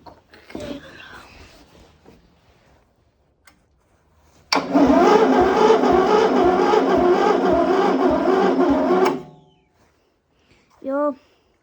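A Stiga garden tractor with a flat battery cranks for about four and a half seconds in a loud, rhythmic churn, but the engine never fires. Voices speak briefly before and after.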